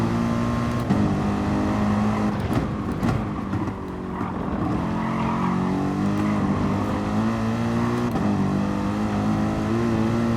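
A racing car engine in Gran Turismo Sport on the Nürburgring drones and revs continuously, pitch rising and falling through gear changes, loud and steady with no voices.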